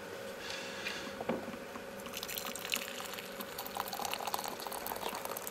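Water poured into a ceramic jar with its lid removed, a faint continuous trickle and splash with small drips, growing a little busier toward the end, no voices.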